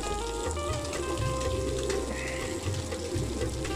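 Cold water running steadily from a tap or hose, poured into a bath for pigeons in a Luton loft in winter, a continuous close splashing flow with a low rumble beneath.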